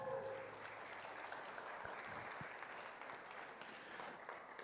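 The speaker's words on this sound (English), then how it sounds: "Give them a round of applause" Audience applause at a youth fair purebred beef show after a class of Brahman heifers, a steady, fairly distant wash of clapping that holds evenly throughout with no talk over it.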